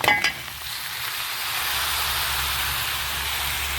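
Meat dropped onto softened onions in a pan sets off a steady, moderate sizzle and hiss after a brief clatter at the start, with no talking.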